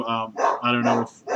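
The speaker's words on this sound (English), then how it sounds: "that's my dog freaking out in the background" A dog barks excitedly in the background at someone passing by, a few quick bursts mixed with a voice talking over it.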